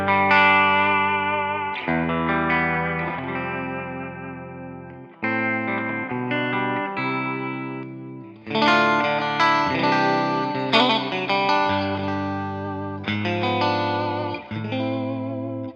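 An electric guitar played through an Amplitube TONEX pedal with reverb rings out in sustained distorted chords, each phrase decaying with a lush reverb tail before the next strum, loud and close with no speech.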